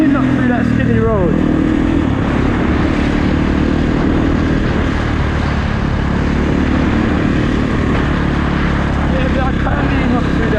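A Kawasaki KX450 dirt bike engine roaring loud and constant close up while the rider wheelies, a buzzy drone with wind noise over it and someone talking through it.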